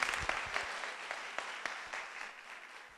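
An audience claps after an educational lecture, with distinct individual claps near the mic over a softer, fading round of applause that thins toward the end.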